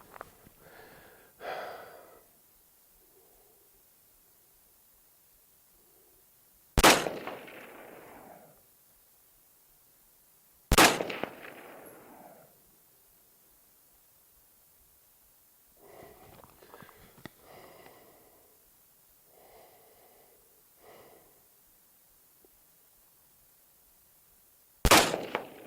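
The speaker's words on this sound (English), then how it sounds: "And again, 5 more shots of Igman 223 out of the KCI" Rifle shots from Igman .223 ammunition fed from a KCI magazine, several sharp, loud reports spaced apart with pauses between, some echo trailing each blast and faint rustling in the quiet gaps.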